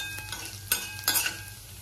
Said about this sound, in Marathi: ह्यात मी आल्याचे 4 तुकडे आणि लसणाच्या 8-10 पाकळ्या घेतलेल्या आहेत। हे छान परतून घेऊयात।